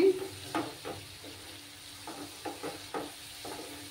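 Slit green chillies and spice paste fry in a pan for a tangra fish curry: a low sizzle broken by repeated scraping stirs and clinks from the pan, with no voices.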